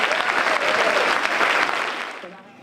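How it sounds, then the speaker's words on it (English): Audience at an annual MLK Jr. luncheon applauds in a dense, steady burst of many hands clapping, loud and close, then quickly thinning and fading out near the end. "Let's give Dr. Malveaux another round of applause."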